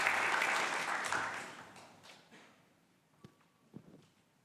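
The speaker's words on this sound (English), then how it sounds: "Round of applause for Angeline" An audience applauds a speaker at the end of a presentation at a New Zealand horticulture conference. Dense clapping is loud at first, fades away over about two seconds, then a couple of soft knocks follow in near silence.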